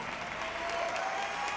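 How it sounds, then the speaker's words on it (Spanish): Studio audience applause at the Mexicana Universal 2018 pageant gala as a contestant is eliminated, a steady even wash of clapping that holds through the whole moment at moderate loudness. "un gran aplauso."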